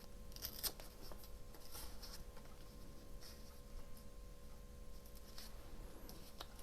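Paper from a small box is torn by hand while it is made into small file folders, giving soft, close rustling and ripping bursts at low volume.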